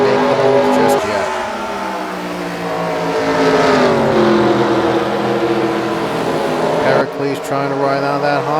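NASCAR stock cars race around the Calder Park track in a video game, engines droning steadily with rising and falling pitch as cars pass, while commentary runs continuously over the sound.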